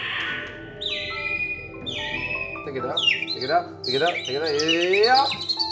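Human bird singers imitate birdsong with their voices, giving rising and falling whistled chirps and trills that grow louder and busier toward the end, close and clear.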